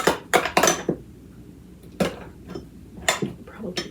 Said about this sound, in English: I'm just going to smash that frozen garlic against the side so it starts melting and breaks up in here.